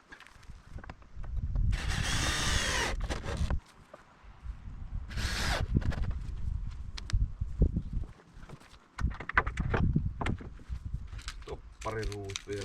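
Corded power screwdriver driving screws while building a DIY pool water heater: loud whirring bursts of a few seconds each with short pauses between, close by, with clatter and handling noises and someone speaking between the runs.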